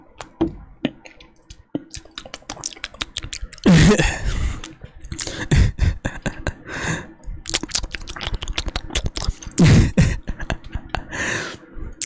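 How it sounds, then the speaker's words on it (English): Close-miked water drinking: wet mouth clicks, sips and a couple of louder gulping swallows come in irregular bursts against near silence. "some water drinking ASMR"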